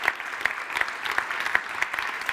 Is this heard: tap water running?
no